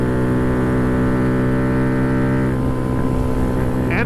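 Honda Grom engine fitted with a DHM high-compression piston, cam and stage 2 tune, cruising at 60 mph on half throttle: a steady, loud, droning motor hum with wind rush, holding even revs throughout.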